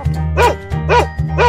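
A dog barks three times in a steady rhythm, each bark loud and close, with short pauses between them and no talking.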